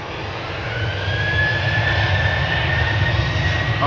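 KLM Boeing 737 jet taking off from Schiphol's Polderbaan runway bound for Manchester, a continuous loud engine roar with a rising high whine, building slightly in strength and holding steady.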